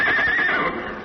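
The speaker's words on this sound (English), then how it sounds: "You got horses hidden back in the woods." A horse whinnies in a short, bright neigh, part of a radio drama sound effect, close and clear, fading before a brief thump at the end.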